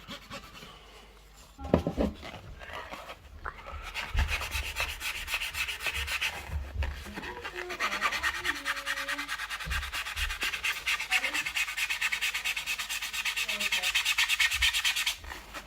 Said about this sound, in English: So just give it a quick wipe down.